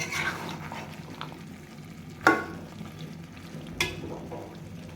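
Chicken with potatoes and chicken liver sautéing in a pan, a steady low frying sizzle with occasional sharper scrapes and clinks of a spoon stirring, no voices.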